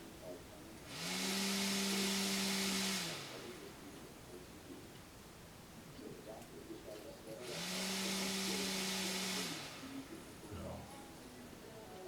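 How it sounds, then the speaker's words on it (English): A 13.5-volt clockwise replacement motor fitted to a Brother OT-448 overlock sewing machine whirs at high speed in two bursts of about two seconds each. Quieter room noise with faint background voices fills the gap between the bursts. "Just give you a listen to the motor."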